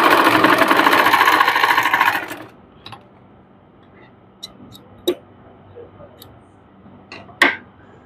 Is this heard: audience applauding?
no